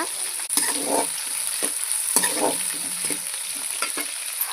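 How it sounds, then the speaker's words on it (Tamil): Onions sizzle steadily in a hot pan, with repeated scraping and stirring strokes over the constant frying hiss. "வெங்காயம் நல்லா கண்ணாடி பதம் வர வரைக்கும் நல்லா வதக்கி எடுத்துக்கோங்க"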